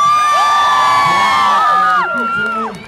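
A crowd at a performance on the Today Show cheers and screams loudly, with high shrill whoops and shouts overlapping close by before the noise eases slightly near the end.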